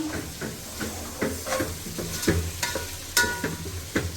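Tomatoes and green chillies being stirred in a frying pan for chicken biryani, with soft sizzling under a steady run of scraping stirs, close and moderately loud.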